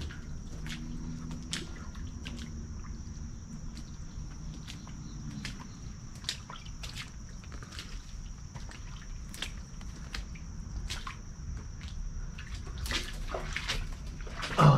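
Steady flowing water of Caltrop Creek, a small creek in Temple, Georgia, runs as a continuous close rush, with faint insect chirps and a few light clicks or steps over it.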